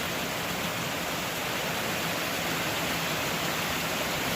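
Kailas Falls roars as a steady, dense rush of falling water, constant and broadband with no breaks and no voices.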